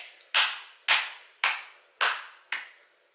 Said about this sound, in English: she likes to clap my hands today